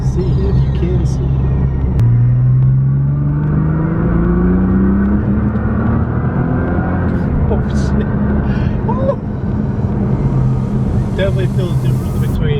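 A stock 545-horsepower Nissan GT-R engine pulls hard through acceleration runs, a loud steady rumble with rising revs heard close from inside the car, with speech over it.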